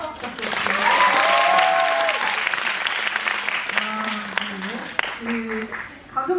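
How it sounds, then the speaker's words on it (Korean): A film screening audience claps in a steady wash of applause at a special guest visit event, while voices speak and sing-song over it near the end. "박수 한번 부탁드립니다"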